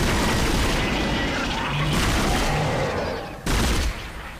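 Pulse rifle fire in the Dead Space video game, a dense sustained burst of rapid loud automatic shots that briefly cuts out and then resumes, close and filling the whole stretch.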